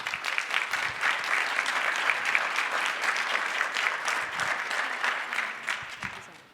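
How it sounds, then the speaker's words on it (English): Steady applause from the audience at a mental health symposium, a full room clapping continuously and evenly before tapering off at the close. "Let's give them another round of applause"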